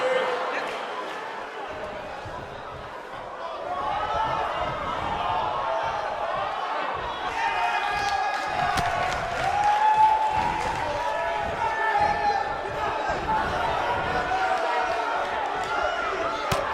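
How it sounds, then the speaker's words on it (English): Dense crowd noise from a packed wrestling arena, a steady roar of cheering and chatter with occasional slams and claps, loud and sustained throughout with commentary voices running over it. "This capacity crowd starting to sense the end is near"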